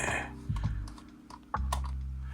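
Typing on an Atari 1040STE computer keyboard, a few scattered key presses over a steady low electrical hum with some background noise, close by, no speech.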